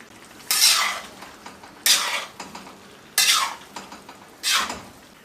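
Tomatoes are stirred into stewed cabbage in a pot, giving four loud, close scraping and stirring strokes at a steady pace with a soft sizzle between them.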